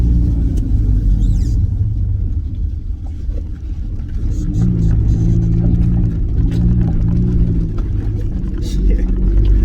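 Suzuki Vitara engine droning steadily while driving along country lanes, a loud continuous low rumble that firms up midway, with occasional voices in the cabin over the top.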